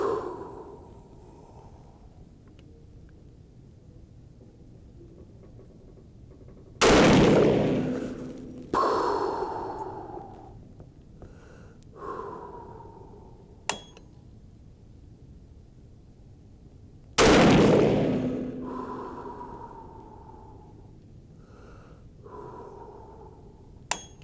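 A 350 Legend rifle fires two loud, sharp gunshots about ten seconds apart at an outdoor range, each followed by a short echo and rumble, with quieter thumps and clicks in between.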